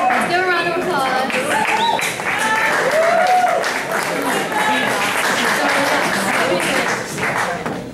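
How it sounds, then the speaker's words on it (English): Audience applause for a school a cappella group's performance, steady clapping sustained throughout with voices and tonal vocal sounds layered over it. "let's give a round of applause"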